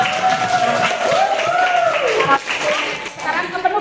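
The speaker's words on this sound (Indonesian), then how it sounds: "Tepuk tangan untuk kita semua." A class joins in applause at the end of a lesson, a dense continuous patter of group clapping, with voices talking over it throughout.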